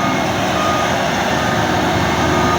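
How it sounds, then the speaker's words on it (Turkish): A drum road roller works on dozer-graded fill material at a construction site, its loud steady engine drone running continuously and close, with no breaks. "Dozerle reglajı yapıldıktan sonra silindir çalışmasına başladı."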